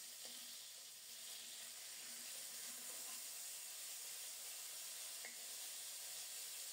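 Salted, turmeric- and chili-rubbed green banana slices frying alongside fish, a faint but steady sizzling hiss that carries on without a break, close and unaccompanied by any speech.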